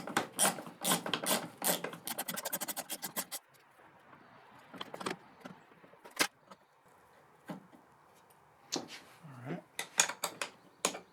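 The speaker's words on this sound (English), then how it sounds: "in order to do that you're going to need a 5mm Allen wrench" An Allen wrench grinds and rattles against the metal pedal of an electric unicycle's motor during removal, with a burst of rapid ratcheting scrapes followed by sparse close clicks and taps.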